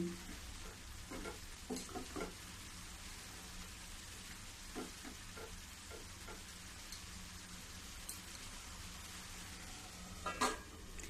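Watermelon rind halwa cooking in a covered pan over a medium gas flame: a steady, soft, even sizzle and bubbling, with occasional faint clinks, continuing unbroken and without talk.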